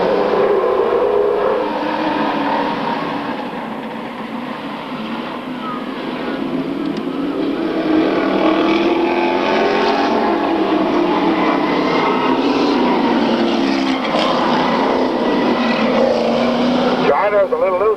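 Stock cars circle turn 4 of an oval track at a 1995 race, a sustained droning engine roar with shifting pitch as they pass, under steady announcer commentary.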